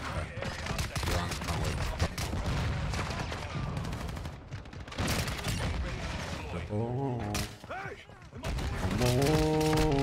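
Call of Duty: Black Ops Cold War match with loud bursts of rapid automatic gunfire and scattered single shots, dense and continuous up close, with game sound effects and voices talking over it.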